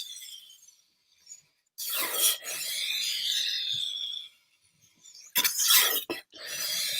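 A kitchen knife stroked along a sharpening stone, with rasping scrapes in a slow rhythm: one long grinding pass, a pause, then shorter passes, close and fairly loud with no talking.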